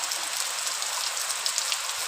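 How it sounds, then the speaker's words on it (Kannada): Heavy rain pattering steadily on surfaces, a dense, close hiss of drops with no voices, constant and loud for the whole short stretch. "ಜೋರು ಮಳೆ ಬರ್ತದೆ."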